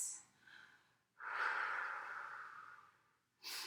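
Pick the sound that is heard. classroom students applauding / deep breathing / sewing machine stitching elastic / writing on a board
deep breathing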